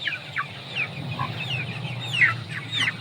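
Shamo rooster clucking in a farm setting, a series of short bird calls repeating irregularly over steady low background noise, moderately near, with no talking.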